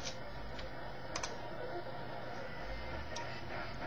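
Keys tapped on a computer keyboard while tuning a radio scanner, a few soft clicks scattered over a steady background hiss of radio static.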